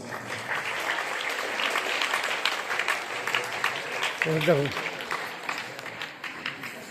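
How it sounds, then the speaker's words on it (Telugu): Audience clapping at a school wedding-anniversary celebration for parents, a steady broadband patter of many hands filling the whole stretch, with a brief voice cutting in near the end. "ఒకసారి క్లాప్స్ మళ్ళీ ఒకసారి వన్స్."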